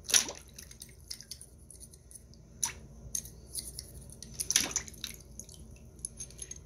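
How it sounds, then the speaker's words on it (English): A maple sap spile is scrubbed out inside with a small straw scrubby in water, giving quiet, scattered scratchy swishes and wet squishy bursts with pauses between. "I have just a little straw scrubby, scrub it out inside,"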